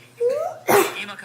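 A single sharp human sneeze, preceded by a rising inhaled voiced breath, then an abrupt loud burst close to the microphone.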